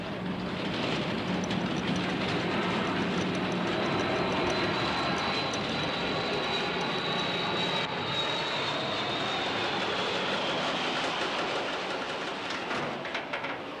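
A propeller airplane drones overhead, a loud continuous engine roar with a steady hum that swells and slowly fades over about fourteen seconds, with no talk.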